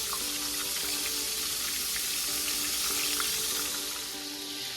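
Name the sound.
chicken fried steak frying in a pan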